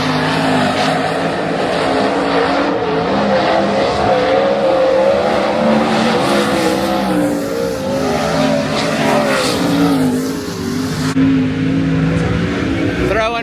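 Race cars roar around the Tolmer Speedway dirt track in Australia, a loud continuous blend of revving engines, throttle swells and tyre noise from several cars passing close, with no pauses across the whole stretch.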